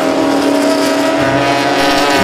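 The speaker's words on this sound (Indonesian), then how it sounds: "kita menemukan mobil sedan balapan" A racing sedan's engine drones loudly and steadily at close range, with a sustained high-revving tone, and no one is talking.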